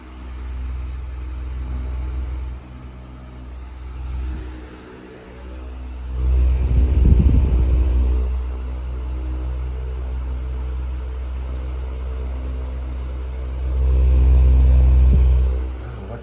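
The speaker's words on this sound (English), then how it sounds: "But then you hear that stupid wind resistance noise." A Holmes 16-inch stand fan runs with a steady low whooshing drone of wind resistance noise, with louder swells of airflow at a few points and no talking.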